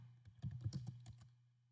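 Quick bursts of keystrokes rattle on a computer keyboard while someone types into an Excel spreadsheet, a close, crisp flurry of clicks that trails off over a low steady hum.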